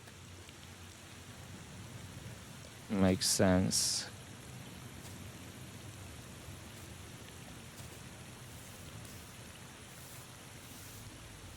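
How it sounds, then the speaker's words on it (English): Steady rain hisses through the whole scene in the video game The Thaumaturge, a soft, even patter. A brief spoken remark rises over the rain partway through. "And it is raining"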